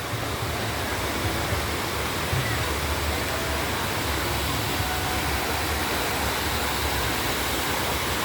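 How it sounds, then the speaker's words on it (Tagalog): Water from a natural spring flows continuously, a steady broadband rush with a low churning undertone, close and constant throughout with no talking over it. "natural spring."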